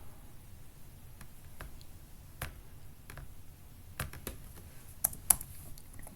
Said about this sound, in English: You can type whatever you want in your description as well.